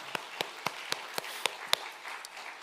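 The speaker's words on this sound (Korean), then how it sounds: "우리 하나님께 감사의 박수 드리겠습니다." A church congregation at an evening revival service claps in thanks, heard as a short series of distinct, evenly spaced claps, fairly faint and sparse rather than a full ovation.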